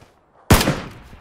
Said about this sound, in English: We're getting shot from the right.